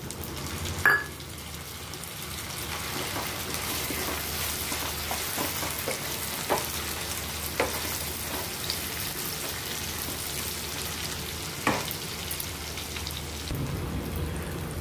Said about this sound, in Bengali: পেঁয়াজটা আমার ভাজা হয়ে গেছে, এবার আমি দিয়ে দেব টমেটো